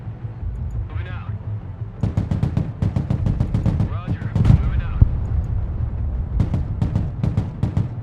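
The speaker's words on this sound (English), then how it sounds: "The tank is destroying, obliterating basically this enemy unit." In the video game Broken Arrow, a tank fires on an enemy unit amid rapid bursts of loud, sharp gunfire that come in dense volleys with short pauses, while a voice talks briefly in between.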